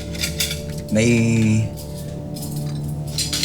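Plates and cutlery clink as a table is set for a home meal in a Filipino drama scene, a bright ringing clatter lasting about half a second, with faint voices and room noise around it.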